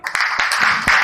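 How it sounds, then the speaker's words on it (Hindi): Brief burst of applause for a speaker at a business meeting in Bihar, a loud, close patter of many hands clapping, with no voices over it. "आदरणीय नीतीश सर के लिए एक बार जोरदार ताली"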